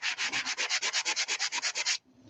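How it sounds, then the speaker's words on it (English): Close, fast sanding strokes rasp back and forth across embossed paper, about sixteen even scrubbing passes in a steady rhythm before stopping abruptly, with no voices. "Is that sanding noise annoying to you guys?"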